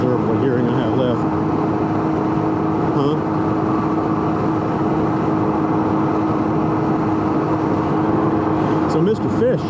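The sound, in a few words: Can-Am Ryker three-wheeled motorcycle engine and road noise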